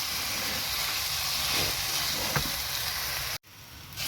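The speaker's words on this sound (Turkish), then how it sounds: "E, bir 5 dakika falan kavuracağım." Chicken fillet sautés in a hot pan with a loud, steady hiss and sizzle and a faint stir, then the sound cuts abruptly before the sizzle resumes more quietly.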